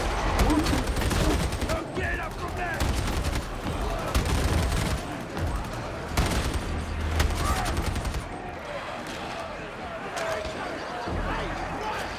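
Rapid bursts of machine gun fire from the video game Darktide crackle loudly and almost continuously, with brief pauses between volleys and talk faintly mixed under the shooting.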